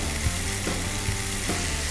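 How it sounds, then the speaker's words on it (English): Garlic and black pepper sizzle steadily in a hot pan, a constant close frying hiss with faint stirring scrapes and no voices. "Garlic goes into the pan."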